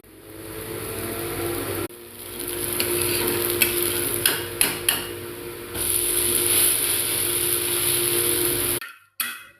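Dosa batter frying in oil on a hot pan, a steady loud sizzle that runs almost throughout, with a few brief clinks partway through and a short pause near the end.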